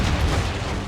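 Ship cannon fire in Assassin's Creed Rogue during a naval battle, a short loud booming burst with rumbling low-end blasts packed into under a second.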